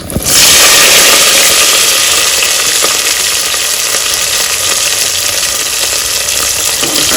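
Onion, garlic and curry leaves dropped into hot tempered oil with mustard seeds and chana dal, erupting into a loud, dense, continuous sizzle that stays strong and close for several seconds.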